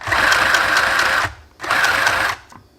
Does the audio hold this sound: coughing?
no